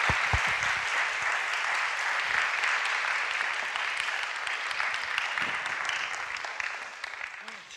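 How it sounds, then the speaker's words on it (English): Sustained applause from a conference audience after a design talk rolls on steadily for several seconds and eases off slightly toward the end, with no voices over it. "let's have a big round of applause for thanking"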